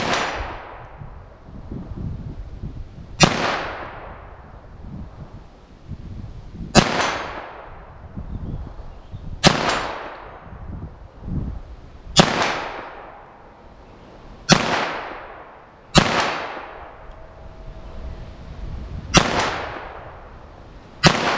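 A .22 LR pistol fires single gunshots in a ballistic test, eight loud sharp cracks spaced a few seconds apart, each ringing out in a long decaying echo.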